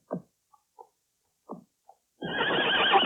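A horse whinnies in a few short, spaced cries, then a louder, sustained burst of noisy neighing rises and holds to the end.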